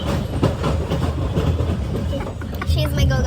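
A passenger train on a trip to Versailles rumbles steadily along the rails, a continuous low clatter and rolling noise heard from on board, loud and close, with voices faintly audible in the carriage.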